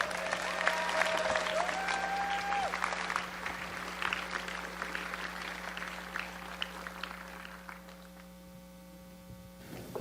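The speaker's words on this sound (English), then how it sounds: "Let's everyone give them a warm round of applause as they come to the stage" A conference crowd at a consumer VR event claps warmly as panelists walk onto the stage, sustained applause over a steady electrical hum that fades out toward the end, with faint voices mixed in.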